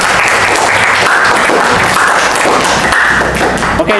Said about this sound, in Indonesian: tepuk tangan untuk Michelle